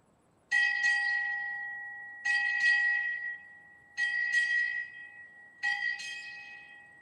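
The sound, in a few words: ship's bell struck eight bells at naval ceremony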